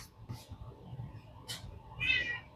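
A cat gives one short meow near the end, over a low steady rumble in a home garage where a car is being repaired.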